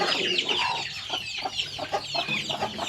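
Several adult Burmese gamecocks and native chickens clucking and squawking close by, a busy overlapping chorus of fowl calls with farmyard background noise.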